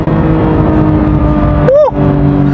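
A Porsche GT3 engine drones loudly from close by, a steady rich rumble with a brief sharp rising pitch sweep near the end like a quick rev or shift.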